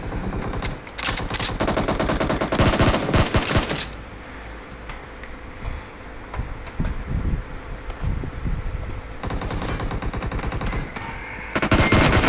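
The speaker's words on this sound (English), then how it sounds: "Má nó bắn." Sustained automatic gunfire in a PUBG 4v4 match, long loud rattling bursts at the start and end with quieter scattered shots in between.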